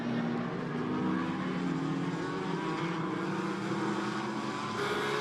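GT4 race cars run at the Hockenheim circuit, engines droning and shifting as several machines pass in a continuous layered roar heard from trackside distance.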